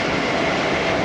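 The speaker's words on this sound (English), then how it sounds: "short train." A short train passes close by a riverside cycle route along the River Ouse in York, giving a loud, steady, broadband rumble and roar throughout.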